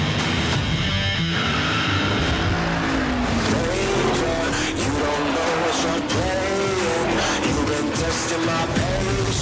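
An all-new seventh-generation Ford Mustang rolls onto the stage at the Detroit Auto Show, its engine growling and revving loudly and continuously in a large hall, with a voice faintly audible.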